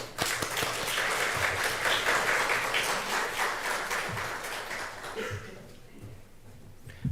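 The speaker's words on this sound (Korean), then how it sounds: "우리 목사님 나오실 때 박수로 모시도록 하겠습니다" A church congregation at a Sunday worship service applauds as the pastor comes forward, a broad, steady clatter of many hands that fades out after about five seconds, leaving quieter room noise and a few low sounds.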